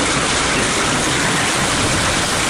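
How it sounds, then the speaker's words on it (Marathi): Heavy stormy rain with strong wind lashes down during a thunderstorm in Pandharpur, Maharashtra, a dense, loud and unbroken hiss of downpour filling the whole stretch, no voices. "पंढरपूरमध्ये वादळी वाऱ्यासह दमदार पावसानं आपली हजेरी लावलेली आहे"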